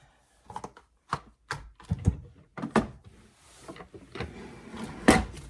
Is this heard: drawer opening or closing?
yes